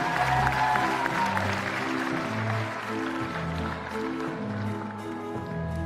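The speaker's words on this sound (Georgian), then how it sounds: "აპლოდისმენტებით გავხილავთ ქალბატონი რუსკა" Audience applause in a talent show studio welcoming a woman onto the stage, a steady, moderately loud wash of clapping from a crowd, with faint music underneath.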